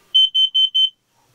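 A carbon monoxide alarm sounds four quick, evenly spaced, piercing high beeps, loud and close, then cuts to silence.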